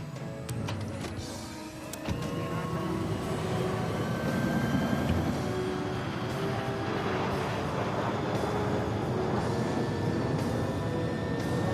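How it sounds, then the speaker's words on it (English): Passenger jet on a runway starting its takeoff, a steady engine roar and whine building gradually under rising tonal hum, heard from inside the cabin. "PanCon 257, you're clear for takeoff."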